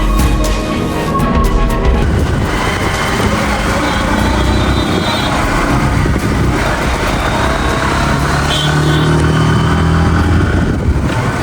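Motorcycle ridden outdoors on rural Nepali roads toward Gurase, a continuous loud engine drone mixed with wind rumble, steady throughout, with brief faint voices.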